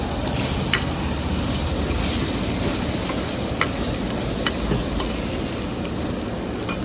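A dry prawn and brinjal curry with coriander and curry leaves being stirred in a hot pan: a continuous dense sizzle with occasional faint scrapes of the spoon, close and steady, without speech.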